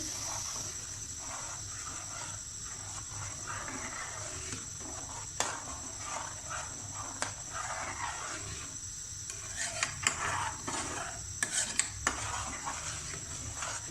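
A spoon stirs a Doodh Dulari dessert mixture of condensed milk in a pan, a soft continuous scraping with occasional light metallic clinks against the pan, steady and close.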